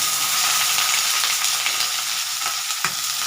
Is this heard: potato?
yes